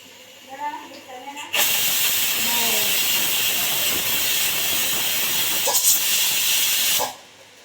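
A home pressure cooker, used while making gobi Manchurian, blasts a loud, steady steam hiss for about five and a half seconds before cutting off, after a short quieter start with a voice in the background.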